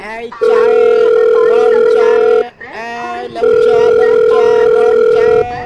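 A phone's ringback tone purrs in two long, steady bursts with a short pause between, as a call is placed to a rickshaw driver.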